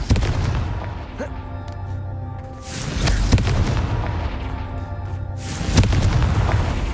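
Confringo fire spell blasts in the video game Hogwarts Legacy come as several loud booming bursts with rumbling tails over a continuous game soundscape.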